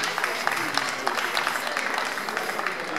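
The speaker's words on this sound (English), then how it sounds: "Please, a round of applause for Jesus." A round of applause rises at a gospel album launch, scattered sharp claps over a soft crowd murmur, moderately faint and fairly even throughout.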